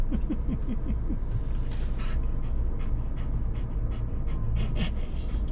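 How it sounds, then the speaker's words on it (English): A worked-up dog pants heavily and rapidly, the quick breaths close and loud over steady background noise, with a few brief whimpering sounds at the start. "Why are you breathing so hard?"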